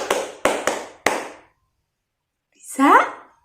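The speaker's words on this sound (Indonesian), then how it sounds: "Tepuk 1, tepuk 2, tepuk 3, tepuk 4, tepuk 5." Four sharp claps ring out close by in a quick uneven rhythm from a classroom group following a counted clapping routine, then fall silent before a brief spoken voice.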